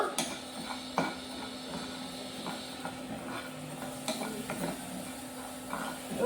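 Rice dry-roasting in a pan without oil, with a steady crackle and sizzle, scattered small pops, and the scrape of stirring against the pan, fairly close and with no talking.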